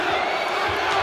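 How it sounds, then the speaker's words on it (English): The crowd at the Poland versus Serbia handball match at EHF EURO 2012 keeps up a dense, loud, unbroken roar of cheering that fills the arena throughout. "overwhelming, the crowd here."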